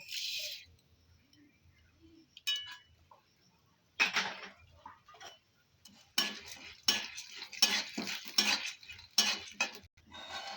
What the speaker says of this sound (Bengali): আমার এই ডালগুলো ভাজা হয়ে গেল